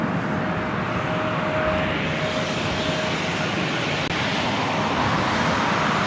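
A heavy jet airliner departing LAX, giving a loud, sustained engine roar with a faint steady whine on top, alone and fairly near throughout.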